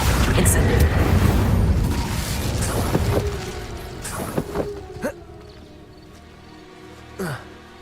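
Spell blasts from Confringo and Incendio in the Hogwarts Legacy video game: a dense rumbling, crackling burst fills the opening seconds, then several sharper impacts and booms pop out around the middle and again near the end, with game effects layered throughout.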